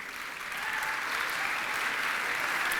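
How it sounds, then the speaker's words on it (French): Dense, steady applause from an audience at a motivational talk to young people, swelling slightly and holding at an even, continuous level without a break. "faut pas applaudir"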